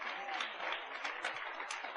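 A church congregation applauds for Jesus during Ilocano preaching, giving a steady, fairly faint patter of clapping with voices mixed in.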